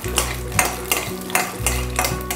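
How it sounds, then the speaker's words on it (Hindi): Peanuts dry-roasting in a pan with a little oil, stirred in steady repeated scrapes roughly every half second over a low sizzling hiss, close and fairly loud with no talking. "पहले हम पीनट्स को भून लेंगे।"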